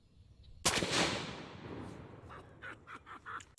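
A single suppressed rifle shot fires with a sharp onset and a long decaying boom, followed by faint clattering sounds; a reaction to a large rifle test.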